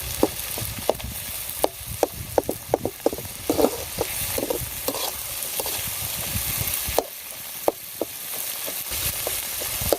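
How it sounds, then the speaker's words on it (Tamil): Tomatoes fry in a pan, giving a steady close sizzle broken by repeated sharp clinks and scrapes of stirring, running unbroken with only a brief dip near the end. "நல்லா தக்காளி வதங்கணுங்க"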